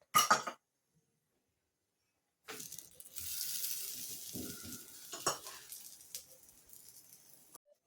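A samosa-shaped cheese corn paratha roasting with ghee on a pan gives a steady close sizzle with brief scraping and turning sounds. It comes after a short clatter and a pause of silence, with no talk.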